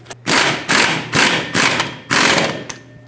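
A ratchet snugs up the top mounting nut on a new front shock of a 1999-2007 Ford F-350, heard as five loud, close bursts of clicking separated by brief pauses.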